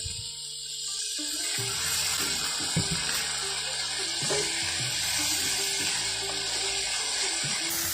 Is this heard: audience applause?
no